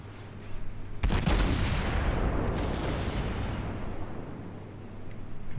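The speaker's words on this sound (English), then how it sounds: "I keep putting shots into this Tirpitz" Naval guns of the cruiser Admiral Hipper firing in World of Warships: a sudden heavy blast followed by a long rumbling decay, with a steady engine hum underneath and faint later shots.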